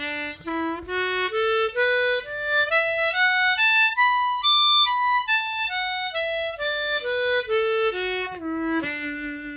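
Harmonica played in second position, climbing a clean scale note by note to the top and stepping back down, each reedy tone clear and steady with no talking.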